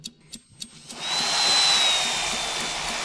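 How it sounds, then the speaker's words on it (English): A few sharp taps come first, then a power grinder whines up and runs steadily along the edge of a stone, a rising high-pitched grinding that holds at close range. "Grind it gently along the edge."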